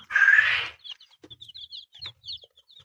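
A hybrid meat-and-egg chicken gives one loud squawk, followed by a run of quick, soft clucks and chirps close by.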